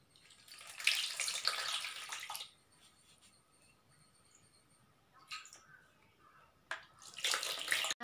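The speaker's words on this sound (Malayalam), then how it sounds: "നമ്മളിപ്പം ഗോതമ്പ് മാവ് മുങ്ങിക്കിടക്കുന്ന തരത്തിൽ വെള്ളം ഒഴിച്ചിട്ടുണ്ട്." Water is poured over wheat flour in a vessel in two clear bursts of splashing flow, one at the start and one at the end, separated by quiet moments with a few small knocks.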